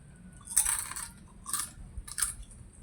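Three crisp bites into kecimpring, thin fried cassava crackers, each giving a sharp brittle crunch close to the microphone, the first the loudest, with brief pauses between them and no talking.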